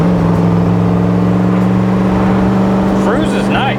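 A 1967 Corvette Tri-Power 427 with 3.08 rear gears and Posi-Traction accelerating in third gear, a loud, steady, close engine drone with someone speaking briefly over it near the end.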